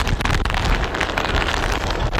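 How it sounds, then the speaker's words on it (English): Strong wind drives rain through leafless trees during a Midwest tornado outbreak, a loud continuous hiss and roar with gusting buffets against the microphone. "the wind whipping the rain through these trees here"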